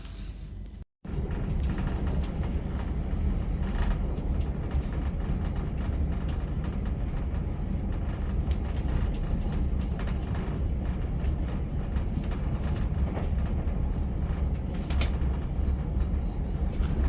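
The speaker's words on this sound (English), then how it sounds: "this train is currently running about 9 minutes late, so hopefully we'll pick up time as we go" A Class 313 electric train runs on rails toward Horsham, heard from inside as a continuous rumbling roar with rattles and occasional clicks, broken by a brief cut near the start.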